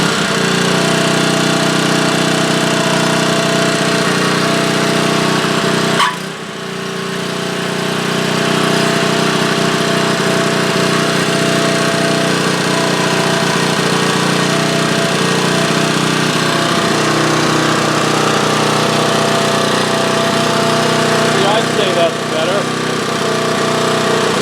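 A repaired lawn edger's small two-stroke engine runs loudly and steadily close by, with a brief drop near the start before it settles into a continuous buzzing roar with uneven fluctuations.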